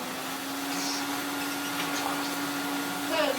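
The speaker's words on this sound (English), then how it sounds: "with our 1980s Hoover Sensotronic System 20" A 1980s Hoover Sensotronic System 20 vacuum cleaner runs with a steady, moderately loud motor whine and airy rush, holding an even pitch throughout, with faint speech-like sounds briefly over it.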